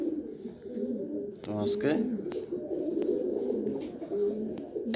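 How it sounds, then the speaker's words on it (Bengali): Two pairs of skittish cream bar pigeons coo in low, rolling bursts close by, while someone speaks over them and other soft bird calls fill the background. "তো যাই হোক কবুতর দেখেন, কবুতরের সাইজ দেখেন"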